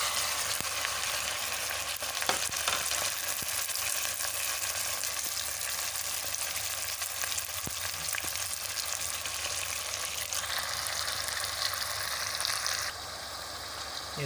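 Chicken frying in a pot makes a steady, dense sizzle with occasional stirring clicks, continuous and fairly close, easing slightly in the last seconds.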